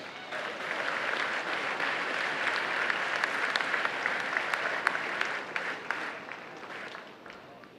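High school graduation crowd applauding the graduates, a long dense wash of clapping from a large audience, fairly distant and fading toward the end.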